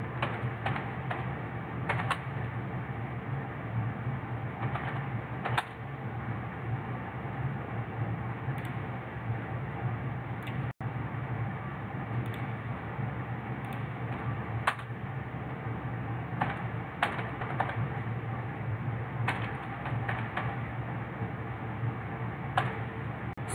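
Steady computer keyboard typing runs throughout at a low, even level, with dense continuous key clicks and a few sharper taps standing out, heard alone without voices during a business card design session.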